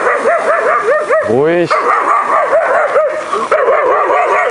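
A dog barks repeatedly in quick, loud yaps with whining yips mixed in, close by and continuous over wind noise while someone speaks briefly.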